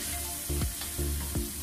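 Pork liver frying in a pan for pancit sotanghon guisado, a loud close sizzle with a few stirring scrapes over it.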